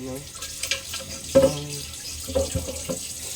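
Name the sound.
washing food under running tap water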